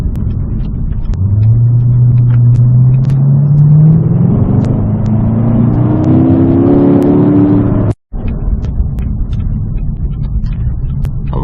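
A Chevrolet Corvette C7 drives along with a loud, deep engine rumble and steady droning tone that rises as it accelerates, heard from inside the car with a brief cut near the end.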